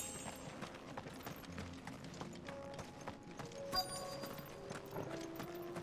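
Boot footsteps from a character in Final Fantasy XVI clop steadily like horse hooves, fairly faint, among game ambience and other game sounds.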